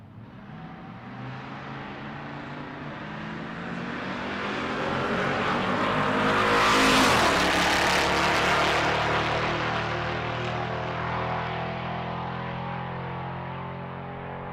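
Drag racing cars, an S10 and a Mustang, roar down the strip, building from a distant rumble to a loud pass around the middle before fading away.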